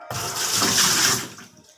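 Water pours into a washing machine under repair for a continuous leak, a loud steady splashing rush that runs for under two seconds before cutting off.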